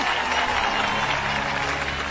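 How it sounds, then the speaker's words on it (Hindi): A crowd claps in a Hindi-dubbed film scene, a steady, dense wash of applause that holds evenly throughout with no clear pauses. "ताली बजाओ ताली"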